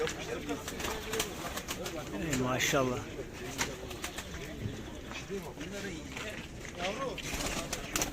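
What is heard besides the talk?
pigeons cooing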